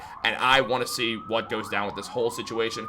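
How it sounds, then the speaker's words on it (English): Emergency sirens wail outside throughout, a rising tone running steadily under someone talking close and loud. "Sorry about the sirens out there."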